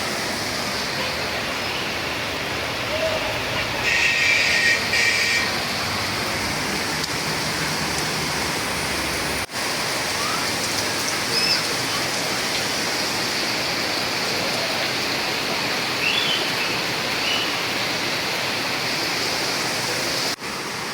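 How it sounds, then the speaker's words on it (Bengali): Heavy rain pours steadily and loudly for the whole stretch, a dense even hiss like water drumming on surfaces all around, with no voices. "চারদিক ভেসে যাচ্ছে বৃষ্টিতে।"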